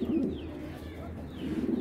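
Two large pigeons cooing inside a cage, with soft, low throaty coos rising near the start and again toward the end over a steady murmur of background noise.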